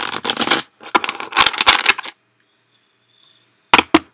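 A deck of reading cards shuffled at a Wednesday night reading session, several dense riffling bursts in the first two seconds, then a pause and two short sharp snaps near the end, close and alone.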